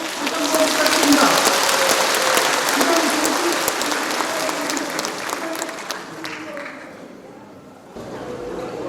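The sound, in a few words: audience applause for lecturer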